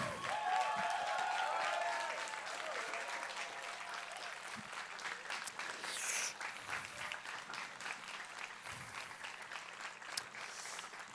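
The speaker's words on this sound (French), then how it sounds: "Les applaudissements sont pour vous aussi, messieurs." Concert audience applauding singers and a pianist, a broad sustained wash of clapping from a large crowd, with a voice briefly over it at the start and some cheering.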